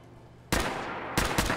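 Modded rifle fired in Fallout 4: two sharp, loud gunshot reports about two-thirds of a second apart, each with a short ringing tail over quiet game ambience.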